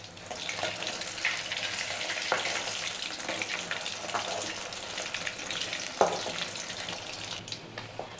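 Pieces of chicken 65 fry in hot oil over a medium flame, giving a steady, close, crackling sizzle with occasional sharper pops and faint stirring knocks.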